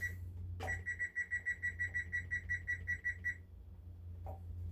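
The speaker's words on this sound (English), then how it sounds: "our timer has gone off" A kitchen timer beeps while bread bakes in a Dutch oven, a rapid run of about fifteen evenly spaced electronic beeps, close and clear over a low steady hum, with a click before and after.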